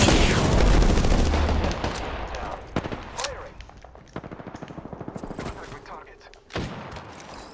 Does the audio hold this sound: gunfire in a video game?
yes